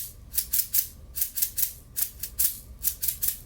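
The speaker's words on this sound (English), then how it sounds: "I recorded a shaker sound with a bottle of sprinkles." A homemade shaker made from a bottle of sprinkles rattles in a quick, steady rhythm, each shake a bright, hissy grain burst, close and quiet with nothing else around it.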